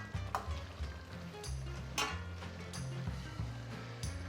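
Pieces of fish curry bubble quietly in a pan with a soft, steady simmer. Faint clinks and knocks from the pan come through at irregular moments, and no one speaks.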